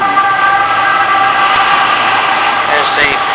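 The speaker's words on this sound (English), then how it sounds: "That noise you hear is" An ambulance siren wails in the distance over steady city traffic noise in Rome, with a voice talking throughout.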